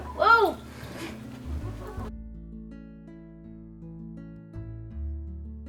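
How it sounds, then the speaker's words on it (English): Backyard chickens clucking while eating tossed apple peels and cores, several soft overlapping clucks up close in the first two seconds, then quieter low rustling and movement. "I also had my boys toss the apple peels and cores over to our chickens, which ate them up quickly."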